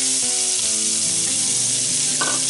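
Diced onion and apple sizzle in a thin layer of fat in a pan, a loud, steady, close hiss that continues without pause throughout.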